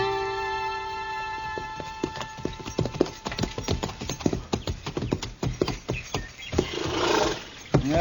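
Horses' hooves clip-clop in an old-time Western radio drama sound effect, a steady run of sharp, close hoofbeats that slows and ends in a brief snort or whinny.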